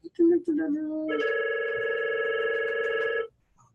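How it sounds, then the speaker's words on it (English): A mobile phone rings loudly and close by during a talk on advocacy, first with a few short tones and then with a sustained electronic chime that stops abruptly, with a brief bit of speech at the start. "my phone's ringing, so let me turn that down."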